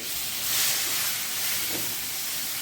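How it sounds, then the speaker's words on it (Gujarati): Water is poured onto spices sizzling in a hot pan, releasing a loud, steady hiss of steam that swells briefly and then settles into a continuous sizzle. "અને મસાલા ન બળી જાય તેના માટે આપણે થોડુંક પાણી ઉમેરી દઈશું।"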